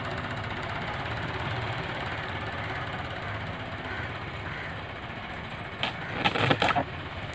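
A tractor engine chugs steadily at a village tree-felling site as it strains to pull down a roped tree, a low knocking idle-like rumble throughout with a few sharp cracks near the end.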